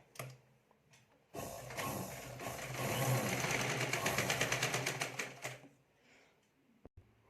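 A sewing machine stitches a potli pouch, whirring close and steady for about five seconds with a rhythmic clatter before stopping, followed by a faint click, with no talk.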